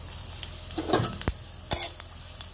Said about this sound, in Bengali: লঙ্কা আর পানমৌরিটা ভেজে নিয়েছি